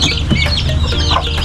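Duckling and turkey chicks peeping and chirping in a busy, overlapping chorus, close by and fairly loud.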